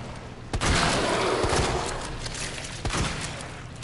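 Rapid gunfire in Resident Evil 2, fired at spores: a burst of close, loud shots around the one-second mark, then a rumbling echoing tail and a second sharp report later.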